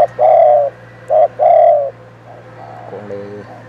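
A spotted dove coos in a steady rhythm of three loud, close, hollow notes, followed by softer fading coos, with a low constant hum underneath.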